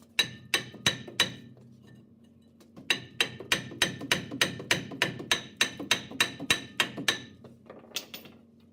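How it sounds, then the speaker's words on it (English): A big hammer pounds on a stuck front brake rotor of a 2011 Ram 2500, sharp metallic strikes ringing out close and loud: four quick blows, a pause, then a long steady run of about fifteen more. "So I'm going to go ahead and get the big hammer onto it."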